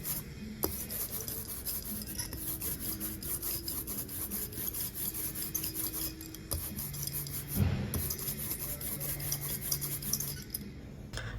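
An ink brayer rolling on an inking slab for linocut printing makes a sticky, tacky rasp that repeats steadily, close up, with a continuous faint hiss and a brief louder smack partway through.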